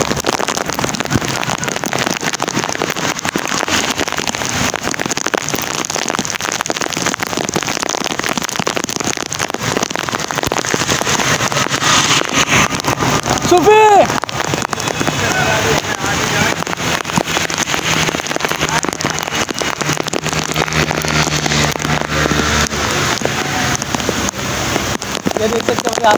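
Heavy rain pouring down in Karachi, a loud, dense, continuous hiss of drops hitting surfaces close by, with a voice talking over it.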